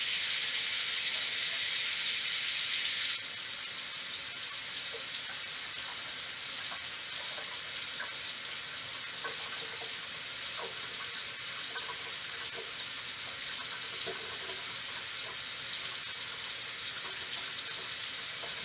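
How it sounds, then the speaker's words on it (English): Kitchen sink faucet turned on, water running in a steady broadband hiss, loud for the first three seconds then easing to a softer continuous flow with faint clinks. "I'm going to turn the sink on and have a peek."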